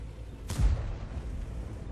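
One muffled, booming tank cannon shot from World of Tanks thumps in the distance, a short blast with a low rumbling tail over steady background noise.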